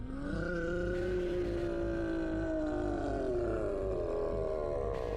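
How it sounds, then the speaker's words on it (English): A huge monster roars in the Fate/hollow ataraxia visual novel: one long, loud, growling bellow that slowly falls in pitch and stays steady and close for several seconds, with no voices. "I can hear a roar."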